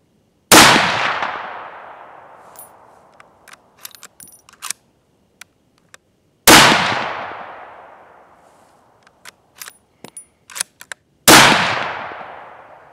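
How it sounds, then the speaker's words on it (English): Three loud, sharp rifle shots from a Savage 11 VT bolt-action rifle firing PMC ammunition at a range, spaced several seconds apart, each with a long decaying echo and small clicks and handling noises between them. "we're just gonna send 3 rounds and see where they land at."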